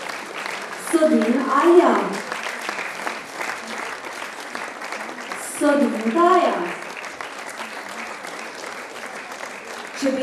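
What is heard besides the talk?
applause for athletes at a ceremony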